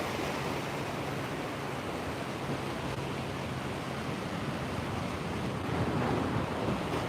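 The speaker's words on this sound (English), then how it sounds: "the sound of the ocean is awesome" Ocean waves at La Jolla Cove in San Diego, California, heard as a steady, loud broadband wash of surf mixed with wind rushing across the microphone, continuous throughout with no voices.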